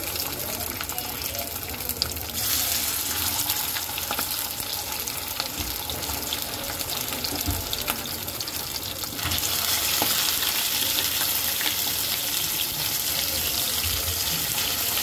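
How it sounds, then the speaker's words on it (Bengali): Pieces of deshi nola fish fry in hot oil in a wok, giving a continuous crackling sizzle that grows denser and louder partway through and holds steady to the end. "মাছটা ভাজার জন্য কড়াইতে তেল গরম করতে বসিয়ে দিয়েছিলাম। এখন আমি মাছটাকে ভেজে নেব।"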